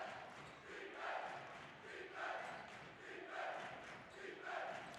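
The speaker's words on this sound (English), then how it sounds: "Get it into Kuchar as the military crowd comes alive." A crowd at a girls' varsity high school basketball game cheers and roars in repeated rising swells, loud and continuous across the gym, with no talk over it.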